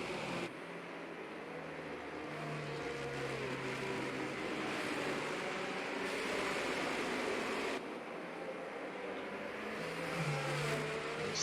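Racing engines in the F1 22 video game at Abu Dhabi during a safety car period make a steady, faint droning hum that swells slightly and holds without a break.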